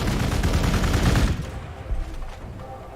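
A burst of rapid gunfire in the strategy game Warhammer 40,000: Gladius - Relics of War, loud and dense for about a second before fading into softer rumbling echoes.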